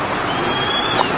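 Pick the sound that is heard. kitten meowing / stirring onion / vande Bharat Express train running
kitten meowing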